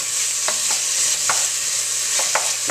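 Tomato paste being stirred into a hot pan, a steady sizzle underneath with several soft, scraping spoon strokes spaced unevenly across the moment.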